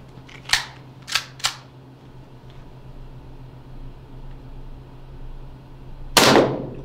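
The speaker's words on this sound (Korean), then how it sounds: "다음은 USP 스틸 슬라이더로 사격을 해볼게요." Airsoft M1911A1 gas blowback pistol fitted with a USP steel slide fires three sharp, close cracks in quick succession with slide clatter, then a single louder shot after a pause.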